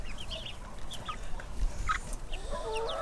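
Hens clucking in their run, giving scattered soft clucks and brief calls at moderate distance over a constant outdoor background hum.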